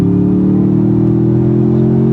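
A 2025 Toyota Tundra TRD Pro pickup truck drives with a loud, steady low engine drone and road rumble, heard from inside the cab with no speech.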